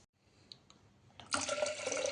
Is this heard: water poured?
yes